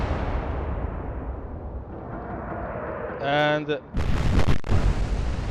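Naval gunfire in the Atlantic Fleet game: rumbling artillery and a heavy boom around the four-second mark, followed by a sharp crack, with someone talking over the battle noise.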